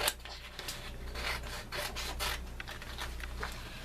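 Scissors cutting a printed paper piece out of a worksheet make a continuous close rasping and rubbing sound with short crisp snips, all without talk.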